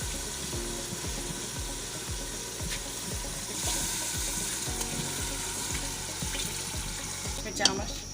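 Rice added to masala frying in oil for matar pulao on a medium flame: a steady, soft sizzle runs throughout with faint stirring scrapes and a brief clatter near the end.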